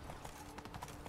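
Hoofbeats of Roach, the horse in The Witcher 3, gallop in a quick rhythmic clip-clop, faint and brief, with no talk.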